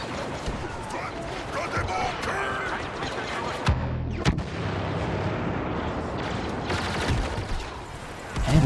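Dense, continuous blaster and cannon fire in a Star Wars Battlefront battle, with sharp louder blasts around the middle amid a busy, noisy war soundscape, while someone speaks in German over it.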